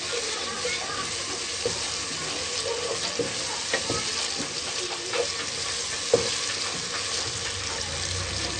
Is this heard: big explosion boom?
no